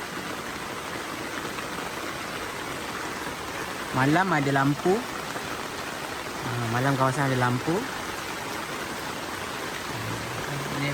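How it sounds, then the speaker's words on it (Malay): Steady rain falls on a forest campsite in Selangor, a constant hiss close by, while someone talks in two short bursts over it. "Hujan dah mula reda sikit."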